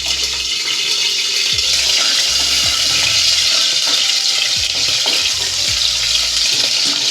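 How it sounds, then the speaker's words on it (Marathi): Hot oil spatters and sizzles steadily as chillies fry in a pan, a loud, continuous hiss with scattered crackles throughout and no talking. "आता पण तेल उडणं चालू आहे."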